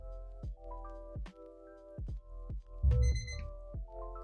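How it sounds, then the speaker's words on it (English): A household alarm goes off nearby in a clear electronic melody of repeated rising tones, loud and alone in a quiet room. "Our alarm's about to go off."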